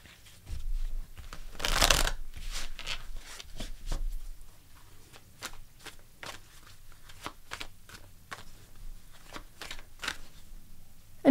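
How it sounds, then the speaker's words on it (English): Tarot cards are shuffled by hand in a quiet room, making a run of soft, papery riffles and crisp flicking clicks up close. A denser burst comes early, followed by steady, irregular snaps, with no speech. "I'm going to go through some additional cards for you."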